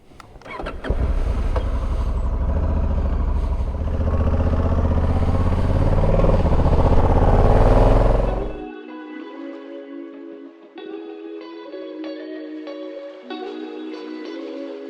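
A Honda Africa Twin 1100 rides in Tenerife, its loud, close engine roaring steadily for about eight seconds before cutting off abruptly, with music playing for the remainder.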